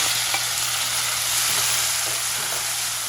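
Tomatoes fry with onions in a pan on a new stove, giving a continuous bright sizzle and a low steady hum, with faint stirring ticks throughout.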